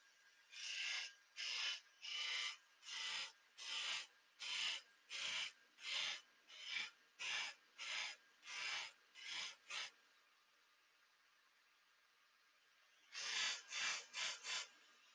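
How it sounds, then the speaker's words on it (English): A wooden cone's front face is pressed in light repeated bumps against a disc sander, giving about a dozen evenly spaced rasping bursts, a pause with only the machine's hum, then a quick cluster of three or four more, loud and close. "just bumping it against the disc like this until the front of your cone is flat"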